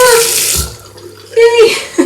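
Water runs from a newly installed bathroom sink tap, gushing in two short bursts close by with a brief lull between them.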